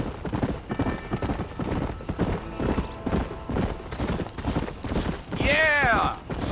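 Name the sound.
horse hooves in Red Dead Redemption video game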